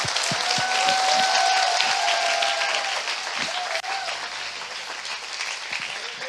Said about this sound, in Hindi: क्या हम यीशु के लिए ताली बजा सकते हैं?